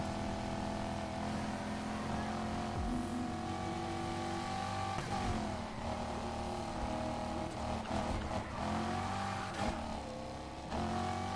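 A race car engine in Need For Speed Heat drones and revs continuously at high pitch during a lap, loud and steady with shifting tones throughout.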